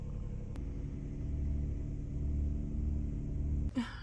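A minivan rolls slowly toward a truck stop entrance, its low engine rumble and road drone steady and close inside the cabin, ending with a brief rustle.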